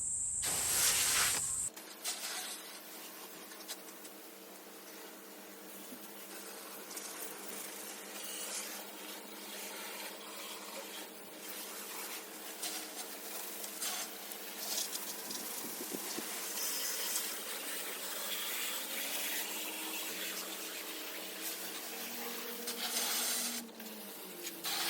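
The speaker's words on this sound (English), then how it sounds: "give it a good rinse off with all water and clean everything down so it's nice and sanitized" Water spray rinsing a house wall during softwashing gives a steady, close hiss of jetting and splashing water that runs for the whole stretch, after a brief louder opening.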